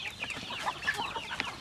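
Native chickens cluck steadily in a farmyard, a busy run of short overlapping calls from several birds at moderate distance, with no talk over them.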